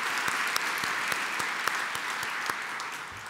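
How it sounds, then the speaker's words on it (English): A crowd claps steadily in a full, sustained round of applause, with a few sharper claps standing out near the front. "Would you please join me again in a round of applause"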